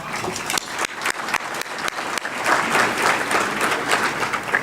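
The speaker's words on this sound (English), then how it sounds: "So can we have another round of applause for them?" A round of applause at an alumni half-century luncheon, brisk clapping from a seated crowd that starts with a few distinct claps and swells into a steady, dense ovation.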